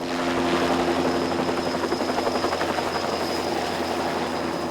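A police helicopter flies overhead with a steady, loud, continuous rotor beat and engine whine that holds throughout, with no voices.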